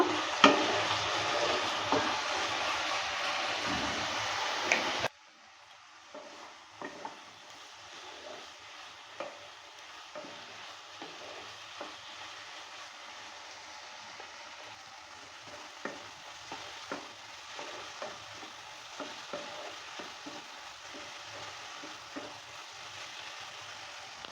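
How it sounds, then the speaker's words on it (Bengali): Ridge gourd with poppy seed paste being stirred and fried in a pan: a loud sizzling burst opens, then a steady softer sizzle with repeated scraping stirs throughout. "দেড় থেকে দু মিনিট সময় নিয়ে নেড়ে চেড়ে নিয়ে রেডি করে নেব"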